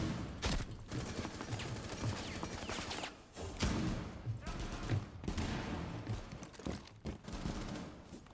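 Rapid bursts of gunfire in Rainbow Six Siege fill the clip, dense and loud with repeated volleys and short gaps, while someone talks over the shooting.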